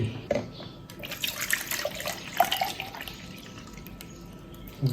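Water pours and trickles into the water tank of an OGGI capsule coffee machine, a close, uneven splashing stream with small drips, alone with no voices.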